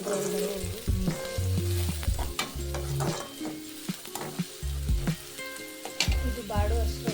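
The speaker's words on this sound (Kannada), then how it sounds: "ಈರುಳ್ಳಿನ ಸ್ವಲ್ಪ ನೀಟಾಗಿ ಬಾಡಿಸ್ಕೊಳ್ಳಿ," Onions frying in a pan with curry leaves and coriander for a South Indian drumstick curry give a steady close sizzle, broken by repeated bursts of stirring and scraping, with no talk.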